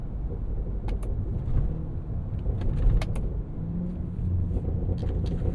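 A 2025 Cadillac Escalade V's 682 hp supercharged V8 with a 10-speed automatic rumbles deep and steady as it pulls through gears, swelling and dipping briefly between shifts, with faint clicks over the drone.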